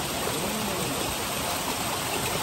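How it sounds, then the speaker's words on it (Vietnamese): A mountain stream rushes over rocks at a Buddhist site with a stone-carved Buddha, a steady close hiss of flowing water with faint gurgles, constant and loud, with no talk over it. "Suối đây qua nè. Mát quá."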